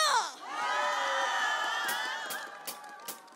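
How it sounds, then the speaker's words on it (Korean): A live audience at a Korean televised music show cheers and shouts as a new song is introduced, a loud swelling crowd roar with high voices, easing off toward the end with scattered whoops. "박수 함성이요"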